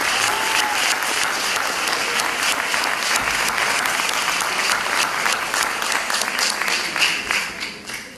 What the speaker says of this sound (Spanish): Un aplauso grande para ellos.